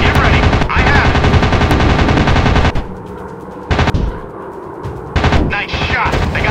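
In a WW2 dogfight video game, machine guns fire in long, loud, continuous bursts, with brief pauses and sudden renewed volleys, close and dense throughout.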